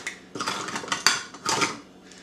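Metal cutlery clatters and clinks in short bursts, as if a hand rummages through a kitchen drawer for a teaspoon while baking cookies. The jangles are close and irregular, with brief pauses between handfuls and no talking.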